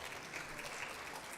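Applause from a church congregation welcoming guests at a Korean church service, a steady even patter of many hands clapping, soft and somewhat distant, continuing without pause.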